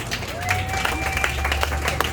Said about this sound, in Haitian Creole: On peut applaudir pour Lise.